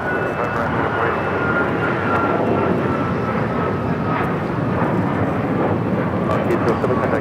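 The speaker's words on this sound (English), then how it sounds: "807 taking off to Honolulu on the MAX 9" Alaska Airlines Boeing 737 MAX 9 jet taking off from Los Angeles airport, bound for Honolulu: a loud, steady, broadband engine roar that holds throughout without a break, with faint radio chatter underneath.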